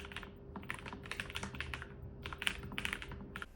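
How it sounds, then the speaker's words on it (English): Continuous typing on a Lofree Flow Lite keyboard fitted with Spectre switches, a steady run of close, crisp keystroke clicks at an even pace with no talking. "Here's how the Lofree Flow Lite sounds like with the Spectre switches."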